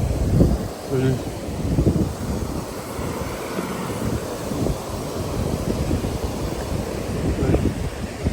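Ice-cold mountain stream flowing beside Kyanjin Gompa in the Langtang Valley, heard as a steady, full rushing wash that stays constant throughout, mixed with some wind-like buffeting and no clear talk.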